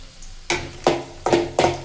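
Garlic cloves frying in a little oil for peanut chutney powder, with four distinct bursts of sizzle and stirring at a steady pace, close and fairly loud.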